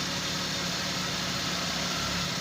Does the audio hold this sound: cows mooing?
no